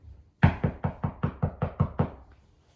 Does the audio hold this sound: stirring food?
no